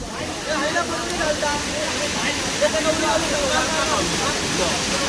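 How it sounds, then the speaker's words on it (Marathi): Rushing water of the Chander waterfall in Malvan, Konkan, a steady broadband roar from start to finish, with faint voices of people nearby mixed into the wash. "पाहू शकता तुम्ही रम्य चांदेर धबधबा"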